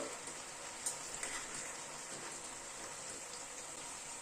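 Rohu fish curry gravy simmers at a low boil in a pan, giving a faint, steady bubbling hiss with a couple of small pops and no voices.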